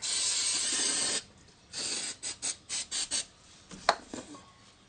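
An aerosol cleaner sprayed on a Pajero Sport 4x4 differential fill plug hisses in one long continuous burst, then several short spurts follow in quick succession, close and loud.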